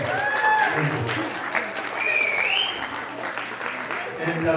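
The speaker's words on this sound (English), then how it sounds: "One more round of applause for the parents of both the bride and the groom" Wedding guests applaud the parents of the bride and groom, a steady mid-level round of clapping in a reception room, with a voice speaking faintly over it and a few whistles or cheers rising through.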